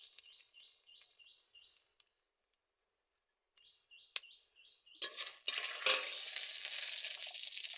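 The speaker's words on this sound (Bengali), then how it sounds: "শুকনো লঙ্কা দিয়ে দিচ্ছি।" Dried red chillies drop into hot oil in a village kitchen wok: faint bird chirps come first, then a sudden loud sizzle breaks out and keeps hissing steadily.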